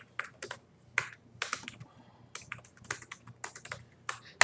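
Keys clatter on a computer keyboard while text is typed into WordPad on Windows 95, a close burst of irregular clicks in quick runs with short pauses.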